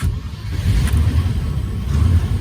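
Land Rover FC 101 V8 engine running just after starting, a steady low rumble with slight throttle swells, close and fairly loud with no talk.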